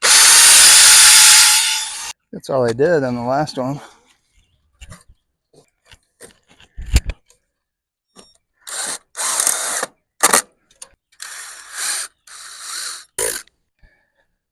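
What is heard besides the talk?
power drill pre-drilling wood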